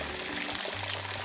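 A small off-trail waterfall flowing with good volume, a steady broadband rush of water heard close and alone, without a break.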